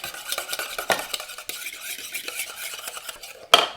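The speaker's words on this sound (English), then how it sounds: "And then I'm just going to mix it up, the tiny whisk." A tiny whisk beats salad dressing with cider vinegar in a small bowl, a quick rapid clinking and scraping that runs throughout, close and steady, ending with a sharper knock.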